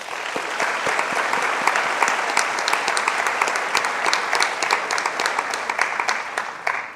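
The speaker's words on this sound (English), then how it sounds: "give those individuals a round of applause" An audience at a senior night gives a round of applause for honored individuals, with dense, steady clapping filling a large room for several seconds without any voices.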